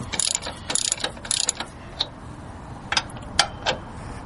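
A ratchet wrench turns the bolts on a car's wheel hub and brake assembly, giving several short bursts of rapid clicking with pauses between them, close and fairly loud, with no talking.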